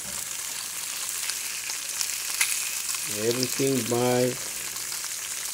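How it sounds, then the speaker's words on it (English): Food fries in olive oil in a frying pan with a soft, continuous sizzle and crackle, while a person briefly speaks over it. "With the olive oil, everything olive oil, everything all in one fry pan cooking now."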